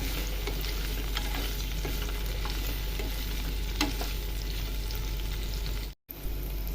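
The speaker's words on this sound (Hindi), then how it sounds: "अब मिक्स कर देंगे इसे और फिर ढककर पकाएंगे" Potato and cauliflower pieces with turmeric stirred while frying in a pan for aloo gobhi: a steady, close sizzle with soft scraping of the spoon, no talking.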